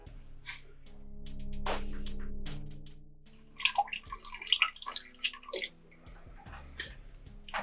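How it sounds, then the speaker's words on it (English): Fluid from a 4L60E automatic transmission drips and splashes into a metal drain pan, with scattered drops that pick up into a flurry of close, wet splatters. "Let my big pan catch everything else that's dripping."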